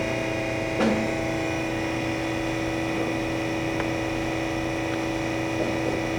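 A Harig E-Z Surf 6x18 CNC and manual surface grinder inside its factory enclosure runs its spindle at 3,600 RPM, making a steady, continuous machine hum and whine with a few faint ticks.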